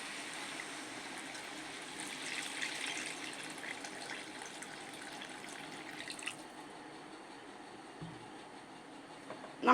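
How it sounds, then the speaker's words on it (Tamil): Water poured into a pot of Tamil chicken kulambu with drumstick and potato, a steady running gush at moderate level lasting most of the clip, ending with a brief clatter. "இதுக்கு தேவையான தண்ணி நான் ஊற்றிக்கிறேன்."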